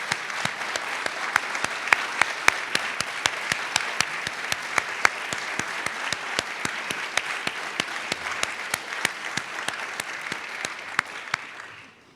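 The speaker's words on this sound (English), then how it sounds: "I'd like to give you all a round of applause." An audience at a medical school stethoscope ceremony claps steadily and warmly for several seconds, a dense even patter of many hands that fades out at the end.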